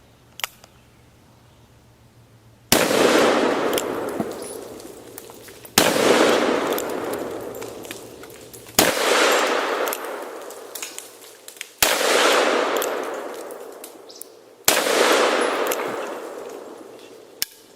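Five heavy Smith & Wesson 500 Magnum revolver shots fired at cinder blocks outdoors, each a sharp loud crack followed by a long booming echo that decays over about three seconds, evenly spaced, with faint clicks before the first.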